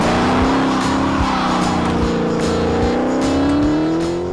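A Dodge Challenger Hellcat Redeye's 797hp engine roars loudly and continuously, its pitch climbing steadily as the car accelerates hard, with a gritty edge of tires spinning.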